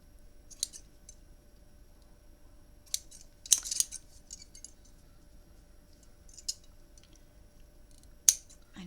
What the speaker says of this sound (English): And if we had real sharp scissors